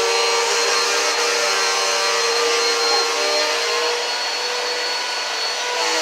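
A vacuum cleaner runs on carpet indoors, a loud, steady whining drone with tonal hum that holds throughout without pause or talk.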